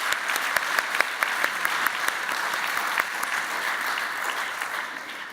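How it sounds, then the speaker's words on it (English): Sustained applause from an audience at a charity anniversary event honoring volunteers, dense steady clapping with a few sharper claps standing out, fading slightly toward the end. "I think we need to give a big round of applause to all of the volunteers"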